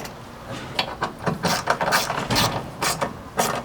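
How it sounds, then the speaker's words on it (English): A hand hex ratchet with a 6 mm bit clicks steadily as it tightens socket cap screws on a Ford Bronco tailgate, close and fairly clear, in a quick series of pawl clicks. "Then just use a 6mm hex on these socket cap screws."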